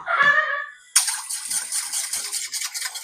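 Water pours from a tap while cheese bread dough is being made, a bright close hissing stream that starts abruptly after a brief squeak and runs steadily, with no talking.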